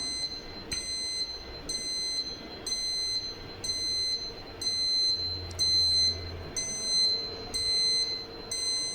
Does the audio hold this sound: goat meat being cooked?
no